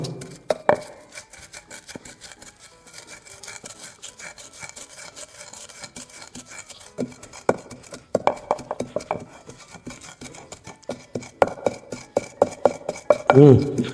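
Coriander, cumin, mustard and fenugreek seeds are ground to a fine powder for a Nellore-style fish curry masala, with a steady gritty rasping and rubbing that builds into louder, quicker grinding strokes near the end.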